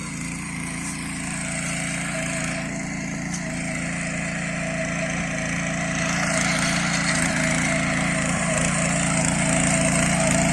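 A Honda GX 200 engine on a tiller runs steadily in a vineyard, a continuous mid-pitched drone that grows slightly louder toward the end, with no voices.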